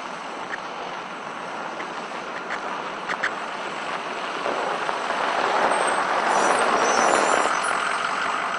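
Tow trucks work to clear disabled cars from a snowy Edmonton road, giving a broad, loud rumble of heavy engines and traffic that swells toward the end, with a few faint clanks early on.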